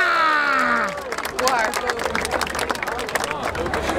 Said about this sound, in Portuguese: Palmas nessa batalha!